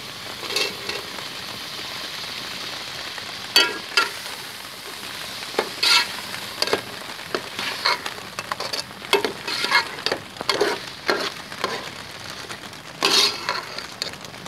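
Potato pieces being stirred into roasted masala in a pan for aloo baingan, producing a low background sizzle punctuated by irregular scraping and clinking strokes of a spoon against the metal.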